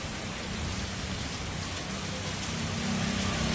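Steady, heavy rain pours down on a road in Tapa Mandi, Barnala district, Punjab, a dense continuous hiss with a low rumble underneath, constant throughout.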